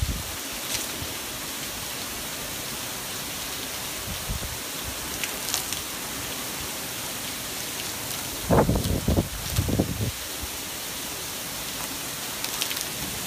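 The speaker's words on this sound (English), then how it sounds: "And it's only been raining for like 15 minutes." Heavy rain pours steadily at a beach resort in Duck, North Carolina, on the Outer Banks, a dense, even hiss throughout, with a few brief nearby thumps and splashes partway through.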